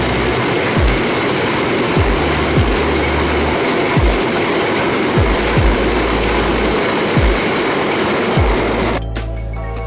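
A passing train rumbles loud and close, its wheels knocking in a steady rhythmic clack over the rails before the roar cuts off abruptly near the end.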